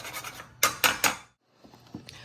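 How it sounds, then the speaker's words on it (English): Whole nutmeg is grated on a handheld zester in a home kitchen: a few short, close rasping strokes, then a pause and softer scraping. "I use my handy dandy zester and just rest it up here and grate away."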